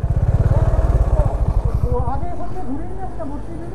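A KTM Adventure 390 motorcycle engine idles nearby with a rapid, loud, thumping single-cylinder pulse that smooths into a steadier rumble, while someone talks over it.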